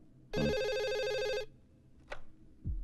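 A telephone rings once in a long electronic burst, loud and close, followed by a brief clatter and a low thump.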